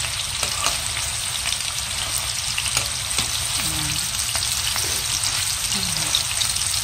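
Bacon fries in a pan full of rendered grease, giving a dense, continuous crackling sizzle that stays loud and even throughout, with faint stirring clicks and no talking.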